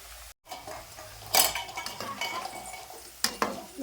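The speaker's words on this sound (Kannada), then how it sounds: "ಈ ರೀತಿ ಪಕೋಡ ಫ್ರೈಗೆ ನೋಡ್ರಿ" Pakoda fritters in hot oil in a home kitchen, with soft frying hiss under louder clinks and scrapes of a metal utensil against the pan and a few sharp clatters, no talking.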